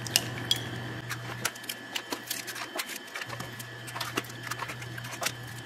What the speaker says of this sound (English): Into a bowl, you're going to crack 8 eggs.